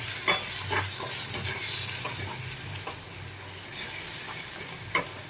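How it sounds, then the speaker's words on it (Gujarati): Turmeric and red chili powder are stirred into frying eggplant for Gujarati ringan no olo. A steady sizzle runs beneath scattered scrapes of a spoon against the pan, and no one speaks. "મસાલાને આપણે મિક્સ કરી લઈએ"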